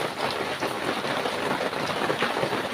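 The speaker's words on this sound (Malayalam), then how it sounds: "എമ്മാതിരി മഴയാണ്." Heavy rain pours down in a dense, steady hiss that stays loud and even throughout, with no voices over it.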